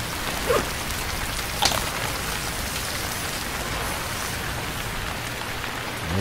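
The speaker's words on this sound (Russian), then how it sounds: "Дождь." Steady, even rain hiss falls throughout in the survival game Stranded Deep, with a couple of brief faint splashes or ticks near the start and no voices.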